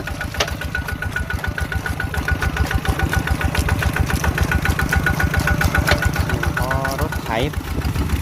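Tractor engine chugging in a rice paddy field, a close, steady rhythmic diesel knocking that runs throughout, with brief voices and splashing over it.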